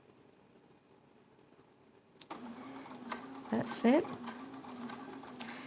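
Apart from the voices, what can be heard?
sewing machine stitching a fabric seam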